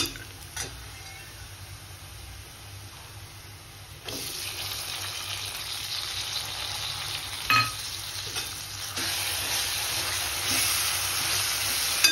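Tomato dropped into a pan of sautéed onion for prawns masala, frying with a steady close sizzle that grows louder midway, with occasional stirring scrapes and no talking.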